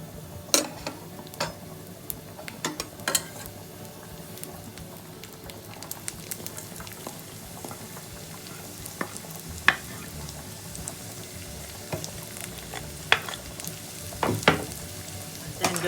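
Garlic and onions sizzling in a pan for a tuna pasta bake, a low steady fry with occasional sharp clacks of a utensil stirring against the pan.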